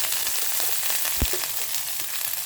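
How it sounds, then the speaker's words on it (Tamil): Coconut, garlic and dried red chillies sautéing in a pan for a breakfast dish, a steady close sizzle and crackle with a brief stir or scrape of the spoon midway. "காஞ்ச மிளகாய் போட்டுக்கலாம், கொஞ்சம் வதக்கிக்கலாம்"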